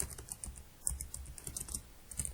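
Fast, steady typing of Python code on a computer keyboard, soft clicky keystrokes heard close and quiet with no talking.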